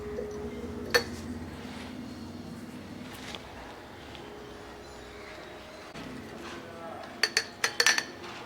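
Red chilli paste is spooned from a pan into a clean glass jar, with a soft clink early on and a quick cluster of sharp spoon-on-glass taps near the end over quiet room tone.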